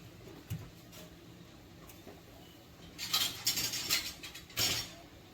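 A lid being put on a cooking pot, heard as a cluster of light metallic clinks and rattles near the end after quieter handling, close and fairly soft.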